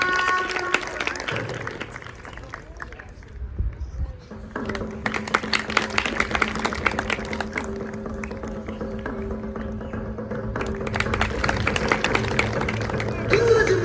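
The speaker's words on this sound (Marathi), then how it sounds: "टाळ्या." An audience applauds at a school lezim sports display with dhol-tasha, scattered clapping rising and falling amid crowd murmur, with tonal music or drumming in the background over about fourteen seconds.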